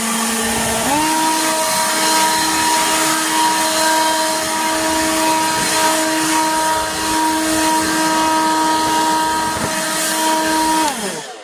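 A Craftsman V20 20-volt cordless string trimmer or blower runs while cleaning up wet grass around a kennel, revving up after a second into a loud, steady high-pitched whine held close for about ten seconds before spinning down.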